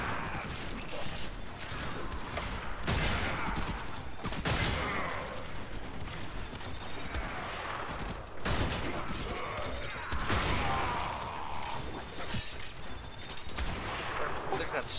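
Sniper gunfire in the video game Warframe, a dense stretch of repeated loud shots and blasts over a busy battle backdrop, with occasional speech mixed in.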